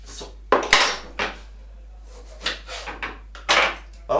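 Limes sliced with a knife on a board for a caipirinha: a handful of separate sharp cutting knocks and clacks, close and fairly loud, spaced irregularly with quiet gaps between.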